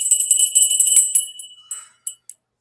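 A small desk bell rings with bright, high, tinny strikes, a quick cluster of dings fading out, then a couple of softer isolated taps, clear and close with no talking.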